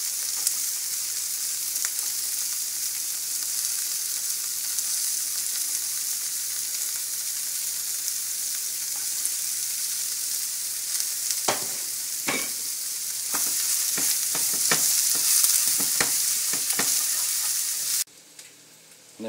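Carrots and green beans sautéing for pancit bihon with tofu, a steady loud sizzle that runs throughout, joined later by a series of scraping stirs and clacks of a utensil against the pan.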